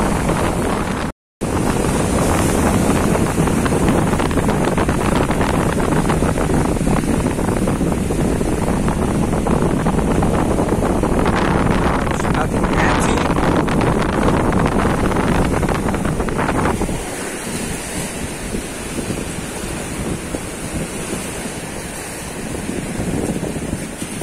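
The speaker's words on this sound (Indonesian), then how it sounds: "Ini ombak sudah cenderung mengecil kalau di pinggir." Small ocean waves wash onto the shore at low tide at a fishing spot, a continuous loud roar with wind buffeting the microphone, easing in the final seconds, with no talk.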